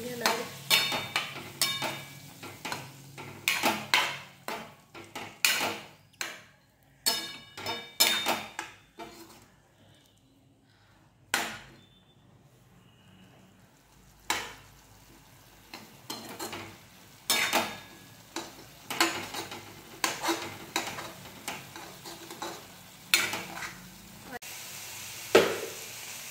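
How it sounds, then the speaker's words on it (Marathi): A coriander and garlic paste is sautéed in a pan, with a soft sizzle under repeated spoon strokes that scrape and tap against the pan, pausing briefly midway before the stirring resumes. "कोथिंबीर, लसणाची पेस्ट टाकणार आहे। हे छान परतून घेणार आहे।"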